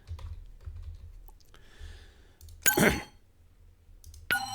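Typing on a computer keyboard while entering a card in the DC Dual Force digital card game, heard as short scattered key clicks and a couple of brighter, louder bursts of tapping, fairly close.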